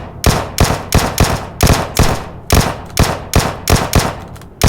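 Continuous gunfire in a video game: loud, close bursts of shots repeating in a fast, steady rhythm, roughly three per second, with no voices.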